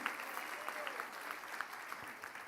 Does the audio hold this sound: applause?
yes